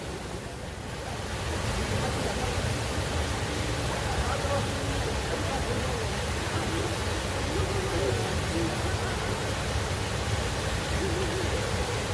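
Continuous roar of Cheonmun Falls, a shallow waterfall on Suraksan mountain, steady rushing water filling the background with little variation.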